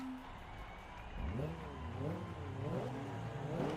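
Race car engines revving on the starting grid at Tsukuba in Forza Motorsport 2, with several cars including a Mitsubishi FTO, Toyota Celica, Honda Civic, Saturn Ion, Acura Integra and Nissan Silvia S13 blipping and rising in pitch, moderately loud under a commentator's talk.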